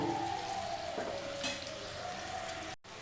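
Vegetables frying in a pan for pasta give a steady, close sizzle with a faint tonal whine running through it, broken by a brief dropout near the end.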